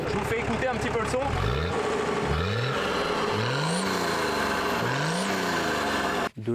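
A modified 4x4 car's engine revs repeatedly, rising whines sweeping up in pitch four or five times at close range, with a voice talking over it.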